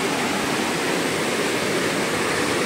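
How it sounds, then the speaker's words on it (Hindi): A river flows in a steady, dense rush of broadband water noise, close and fairly loud, continuous throughout without speech, at a spot used for net fishing. "तो यहाँ पे देख सकते हैं यह है नदी"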